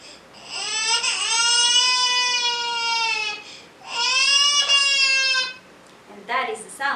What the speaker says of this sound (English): And that is the sound of a crying baby.